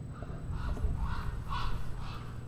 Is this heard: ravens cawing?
yes